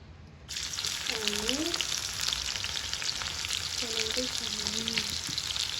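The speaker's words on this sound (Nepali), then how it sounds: "अब यसलाई हामी भुट्छौँ रातो हुन्छन्।" Carrots and cabbage sizzle and crackle steadily in a hot pan, close and continuous, with a couple of brief tonal squeaks over the frying.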